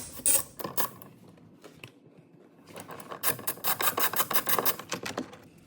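A T25 Torx screw being unscrewed from an Audi S4/A4/A5/S5 door panel: close, scratchy ratcheting scrapes in two clusters separated by a short quiet gap.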